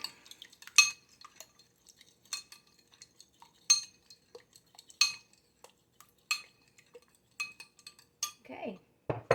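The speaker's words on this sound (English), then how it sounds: "Stir that up." Maple syrup mixture stirred in a pumpkin pie dessert bowl with a metal utensil: sharp, scattered clinks and scrapes against the dish, spaced irregularly between quiet gaps, with a brief soft voice at the very end.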